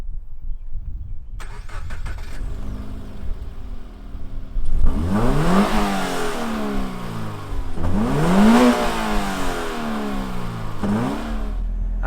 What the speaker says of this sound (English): let's fire up this 2-liter and see what it sounds like